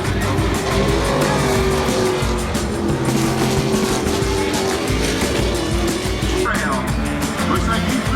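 A race car engine at Crandon, Wisconsin keeps running with the clutch pushed in, droning loudly and steadily at a sustained pitch with rough tire and track noise mixed in, continuous throughout.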